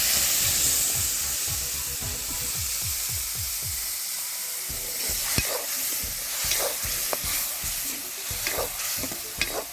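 Ground tomato pouring into a hot pan with chillies, a loud rushing hiss of sizzling steam that settles into steady frying under spoon scrapes and stirring knocks, close up with no speech.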